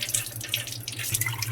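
Running tap water splashes steadily into a chutney grinding vessel being rinsed clean, with gurgles and spatters close by and no talk.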